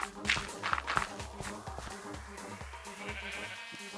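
Sheep in Minecraft bleat a few times, soft and mid-distance, over steady rhythmic blocky footsteps walking across the ground, with a faint rising tone in the background.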